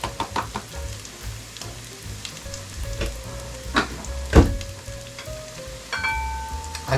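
Precut green peppers and onions frying in a pan with sausage for a breakfast bowl, a steady close sizzle broken by scattered utensil clicks and knocks against the pan, no talking.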